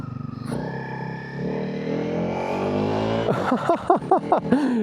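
A 2026 Honda CRF 300 Rally motorcycle engine idles and then climbs in a long rising rev, followed by several quick sharp throttle blips, close and fairly loud.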